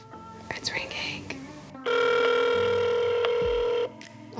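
A landline phone ring tone sounds through a small speaker, one long steady ring after some quiet whispering and handling noises.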